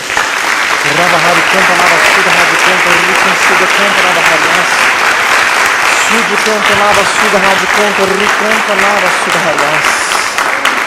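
A church congregation applauds loudly and steadily through the whole stretch, a dense continuous roar of clapping, while voices sing or call out over it.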